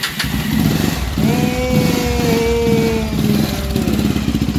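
A Kawasaki Rouser 220 motorcycle, long left sitting, is push started and its engine catches into a loud, close, rough idle that holds steadily with slight revving, no talking over it.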